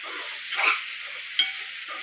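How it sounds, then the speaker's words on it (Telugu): Vegetables frying in a pan with garam masala being stirred in for a bread veg sandwich, a steady soft sizzle with a brief scrape of the spoon and one sharp clink against the pan. "యాడ్ చేసి బాగా కలబెట్టాలన్నమాట"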